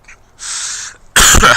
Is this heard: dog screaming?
no